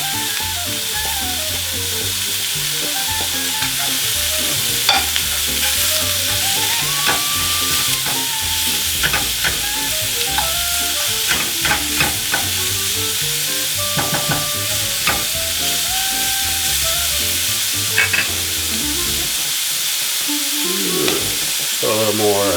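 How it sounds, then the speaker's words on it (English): Vegetables stir-fried for pork fried rice give off a constant loud sizzle with intermittent scraping stirs and clanks, alone and close, while faint background music plays. "let's add the vegetables. Cook these up all together."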